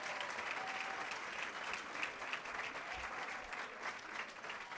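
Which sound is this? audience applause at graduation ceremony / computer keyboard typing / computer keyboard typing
audience applause at graduation ceremony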